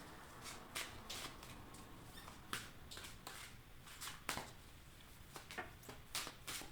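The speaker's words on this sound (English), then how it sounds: "So I'm just shuffling these cards" Soft, papery riffling of cards being shuffled, quiet and close, with repeated crisp bursts in an uneven rhythm.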